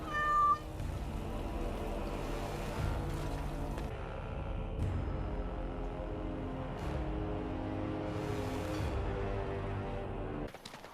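A cat meows in the Dragon Age: Origins video game, several distinct meows over a low ambient game soundscape with no speech.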